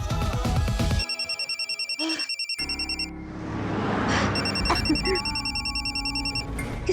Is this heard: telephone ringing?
yes